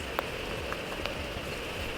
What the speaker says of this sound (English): I'm walking by myself in the rain and it's so nice